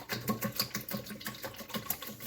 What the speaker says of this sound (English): I'm going to just whisk all this stuff together